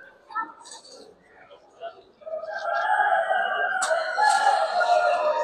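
A rooster crows at a poultry show, a loud, drawn-out call rising after a couple of seconds of softer clucks and murmuring, with quiet voices nearby.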